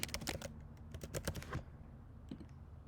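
Quick bursts of typing on a computer keyboard, close and crisp, with a rapid cluster of keystrokes followed by a pause and a few more taps, no talking.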